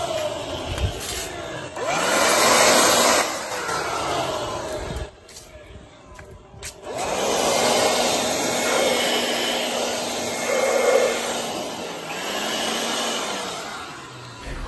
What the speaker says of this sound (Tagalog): Mukhang nahihirapan ng air blower natin.